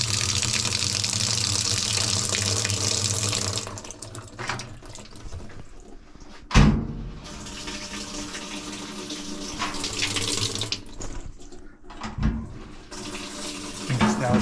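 Water rushes steadily from a clogged cold tap into a Whirlpool washing machine tub, then slows to a thinner trickle with occasional clunks and splashes.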